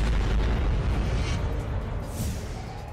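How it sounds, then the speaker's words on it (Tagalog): An Israeli Army bus explodes at the Gaza border: a loud, rumbling blast with a deep low-end roar that sustains and slowly fades, with no voices. "Maya-maya, bigla na lang sumabog ang bus."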